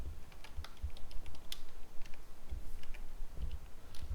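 Someone types code on a computer keyboard, making quick, irregular bursts of crisp key clicks close by with a few heavier thumps mixed in. No one speaks.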